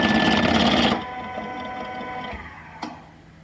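A Flamingo gravimetric auger filler dispensing powder whirs loudly at first, then drops to a quieter, slower mechanical hum, ending with a single sharp click.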